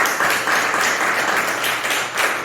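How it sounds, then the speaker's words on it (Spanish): Applause fills a church during a Spanish-language sermon as the congregation claps for the Lord, a loud, dense burst of many hands clapping close by for a couple of seconds. "Dele un aplauso al Señor"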